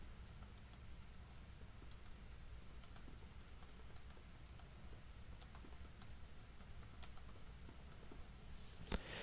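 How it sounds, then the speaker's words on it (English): Someone typing text on a computer keyboard, a soft, steady run of light key clicks heard close but faint over a constant background hiss, with one sharper click near the end. "Now we're going to go ahead and type in some text."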